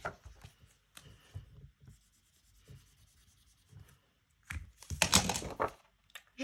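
A gold pencil writes on a black budget envelope in short, faint scratching strokes spaced through a quiet room. A louder burst of rustling handling comes near the end.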